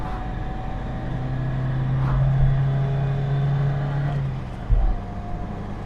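An Isuzu 117 Coupe climbing a hill, its engine droning steadily with a low hum that rises slightly under load, then a brief drop and a thump near the end as the car labours uphill in gear.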